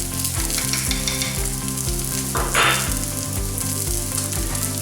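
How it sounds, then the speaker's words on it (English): Onions sizzle steadily while caramelizing in a frying pan, a continuous close crackle with a brief louder burst of hiss midway, under a steady background music track and with no talking. "So the onions have started to caramelize a little bit now"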